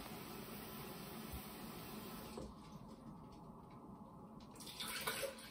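Water is poured out, two cups measured for a blender to make a red cabbage pH indicator, a soft trickling splash that is faint and close, with a slight swell near the end.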